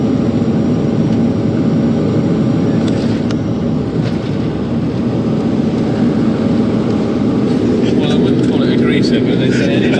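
Hughes 369 helicopter on final approach to land at Exeter, a loud steady rotor and engine roar filling the cabin continuously from start to end, with some wind buffeting.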